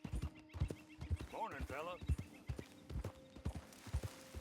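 A horse in Red Dead Redemption 2, earlier ridden hard, clip-clops at a steady walk and lets out a clear whinny in the middle. A voice speaks briefly over the hooves.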